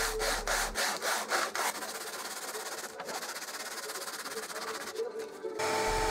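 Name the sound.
hand sanding wood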